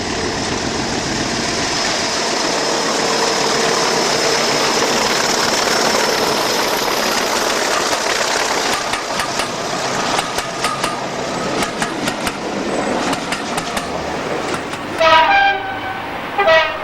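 Class 45 diesel locomotive 45112 passes at Bilbrook on the West Somerset Railway, a loud steady engine roar and rumble of rolling stock, then a run of rhythmic wheel clicks over rail joints as it goes by, with no talk.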